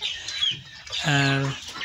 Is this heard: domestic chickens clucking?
yes